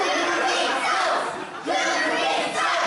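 A wrestling crowd at an indie pro wrestling show chants in loud rhythmic waves, voices massed and echoing in the venue, briefly dipping before surging back.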